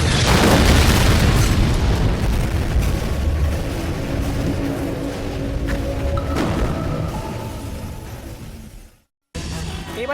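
A loud bomb blast in a dubbed action film scene sends a heavy low boom rolling through the mix, with rumbling debris and crackling that slowly fade before a brief cut to silence and a return of ambience.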